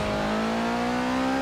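A 1985 Ford RS200 Evolution in Forza Horizon 4, its engine droning at a steady high pitch that creeps slowly upward as the rally car pulls under load, loud and continuous.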